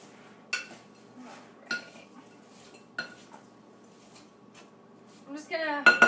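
Apple pieces tossed with flour, cinnamon and nutmeg in a mixing bowl, with a few separate clinks and scrapes of a utensil against the bowl and a louder clattering rustle near the end.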